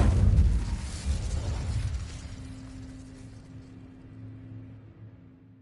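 An Incendio fire spell is cast in a video game, a loud, booming burst right at the start that fades into a low rumble and a steady hum.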